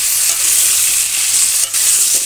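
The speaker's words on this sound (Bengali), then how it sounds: "লবণ দিয়ে বেশ ভালো করে আলুটা নেড়ে চেড়ে ভেজে নেব।" Potato pieces fry in hot oil in a pan, giving a steady, loud hissing sizzle with occasional soft scrapes of stirring, continuous throughout with no voices.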